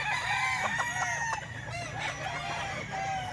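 A small red kelso stag gamecock crows nearby, a long, loud, wavering cock-a-doodle-doo with clucking fowl around it.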